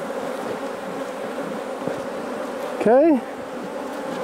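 Honey bees buzzing around an opened queenless hive being worked with smoke, a steady close hum throughout, with a voice briefly speaking partway through.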